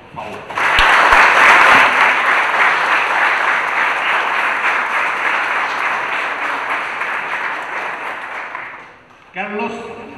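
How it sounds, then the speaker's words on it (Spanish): A conference audience applauds a traffic-law lawyer present in the room, the clapping breaking out sharply, staying strong for about eight seconds and tapering off before a voice resumes speaking. "para quien pido un aplauso, por favor"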